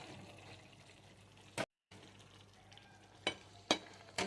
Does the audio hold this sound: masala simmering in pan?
yes